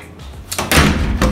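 A bathroom door in a university hostel room swings shut with a short, close thud, a quick bump of movement followed by the louder closing impact.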